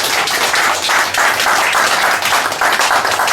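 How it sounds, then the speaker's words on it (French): Crowd applause at a football tournament ceremony in Cameroon, a dense, continuous patter of many hands clapping at once for a few seconds, fairly loud and without talk. "ça demande encore une autre fois des applaudissements pour votre part"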